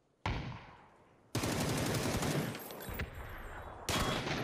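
Rapid automatic gunfire bursts in the battle-royale shooter PUBG, loud and close, coming in a short volley, a long sustained stretch of shots, then another burst at the end, with no talking.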